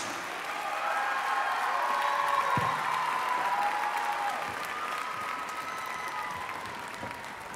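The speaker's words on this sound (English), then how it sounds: "give another big, big round of applause to Soundtracks" An audience at a school district choral festival applauds a student choir, a steady, dense wash of clapping that holds for several seconds with faint sustained tones underneath.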